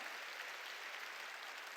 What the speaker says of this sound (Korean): 박수로 하나님께 영화 돌리는 거예요.